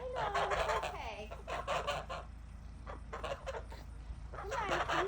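Chickens inside a backyard chicken coop, with repeated clucking and squawking calls that come close and fairly loud, broken by a short quieter stretch before the birds start up again.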